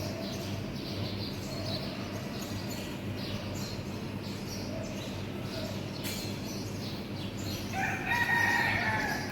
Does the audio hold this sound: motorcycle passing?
no